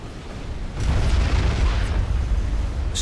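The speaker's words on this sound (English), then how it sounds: "That could play a role as the Maver shell comes firing down." A Mavor artillery shell explodes in the real-time strategy game Supreme Commander: Forged Alliance, producing a deep rumbling boom that swells and lingers amid continuous battle noise.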